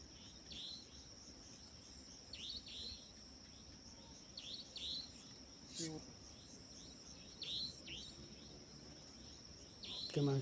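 A bird calling at night outdoors, short repeated chirps at intervals over a steady background hum of crickets, faint and distant.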